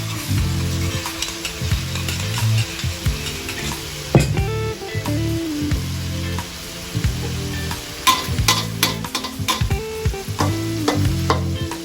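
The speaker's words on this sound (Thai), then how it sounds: "รอให้หมูสุกก่อนแล้วค่อย ใส่ น้ำกะปิที่เราละลายลงไปครับ" Minced pork stir-frying in a pan with dissolved shrimp paste gives a close, continuous sizzle, while a spatula scrapes and clanks against the pan in irregular strokes throughout.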